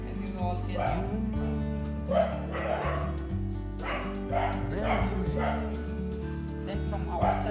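Close, insistent barking and yipping from a house dog, a rapid series of sharp bursts repeating every second or so, with whiny whimpers in between.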